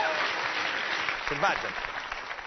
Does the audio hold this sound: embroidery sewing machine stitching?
no